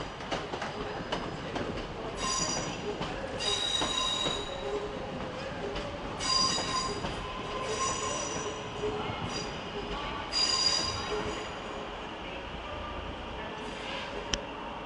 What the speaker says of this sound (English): here's a 323 unit, most likely heading for Hadfield.